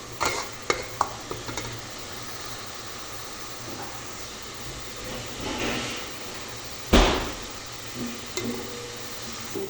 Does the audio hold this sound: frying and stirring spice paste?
yes